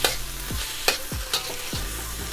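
Oyster sauce stirred into hibachi-style food sizzling on a hot surface, a steady frying hiss with several sharp scraping strokes of the spatula at a regular pace, close and fairly loud, with no voices.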